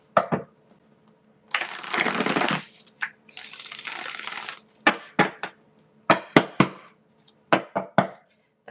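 Tarot cards are shuffled by hand close to the mic, with two long riffling bursts followed by a run of short crisp snaps and taps as the deck is squared, no talking.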